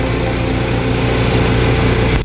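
An air compressor kicks on after its pressure switch trips, giving a loud, steady motor roar that stops abruptly at the end.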